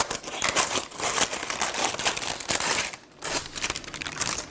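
Parchment paper is trimmed and handled for a New York cheesecake pan, a close run of crisp crinkling and rustling with a brief pause near the end.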